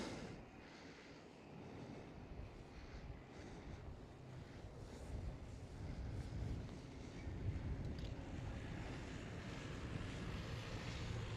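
An EasyJet airliner passes near Schiphol Amsterdam airport, a broad low roar that swells gradually and peaks toward the end, mixed with outdoor wind noise and no talking.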